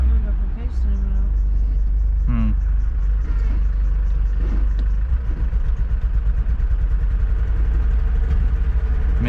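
A 1970s Ford Cortina engine idles with a loud, close low rumble and uneven, stumbling pulses of a misfire, while a person talks over it.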